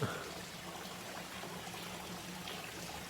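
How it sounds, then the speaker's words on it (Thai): Steady rushing water from a waterfall at an orchid conservation centre in Chiang Mai, a continuous even wash of sound filling the background at moderate distance. "น้ำตกนะครับ"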